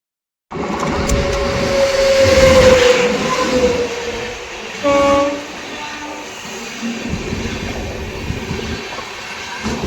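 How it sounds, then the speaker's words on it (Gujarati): A loud train rumbles into a railway station, with a squealing horn-like tone and rolling wagon noise that swells and then steadies as it nears. "હવે આવે ટ્રેન અને નીકળીએ આપણે"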